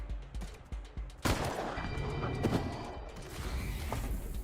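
Sustained automatic gunfire from a light machine gun in the video game Wasteland 3, a dense rattling burst that starts abruptly and keeps going loud, with smaller shots and mechanical clatter mixed in.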